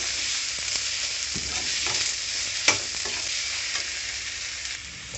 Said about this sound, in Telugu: అడుగు అంటుకోకుండా బాగా వేపుకోవాలండి. వేపుకున్నాక ఉప్పు యాడ్ చేసుకుందాం. ఉప్పు వేసుకున్నాక బాగా కలుపుకుందాం.